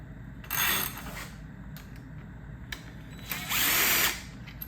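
An impact gun spinning out bolts on a 1976 Triumph TR6 engine. Two short, loud bursts of whirring power-tool noise sound close by, with light clinks and metal handling in between.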